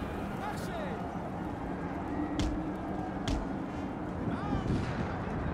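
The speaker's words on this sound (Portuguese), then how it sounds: "Algum canhão acertou a gente aqui com alguma coisa." Artillery cannon or mortar fire in Napoleon: Total War, with two sharp blasts standing out over a constant battlefield rumble while someone talks.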